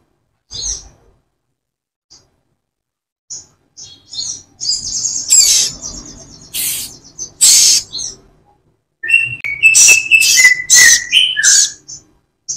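A sogon ijoan bird, male and female compared, calling close and loud in bursts of sharp whistled notes and quick trilling phrases, separated by brief silences, with no talk.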